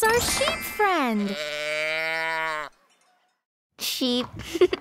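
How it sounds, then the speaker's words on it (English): A sheep bleats loudly and close up in a couple of long, wavering cries, followed by a short silence and then another brief animal call. "It's our sheep friend."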